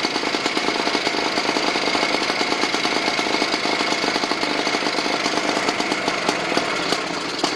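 A Terrot VMS2 scooter engine, running on fuel mixed with too much oil, is started with help from an air blower, giving a loud, continuous, rapid hammering roar with an even rhythm throughout.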